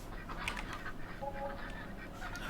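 Ducks on a farm give a few faint quacks and calls against steady outdoor background noise, with no talking.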